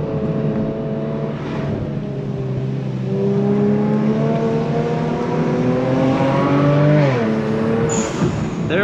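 A Kia Stinger with a loud exhaust accelerates hard through a canyon road, its engine note climbing steadily and droning close-up before a brief dip and another rise as it takes a turn.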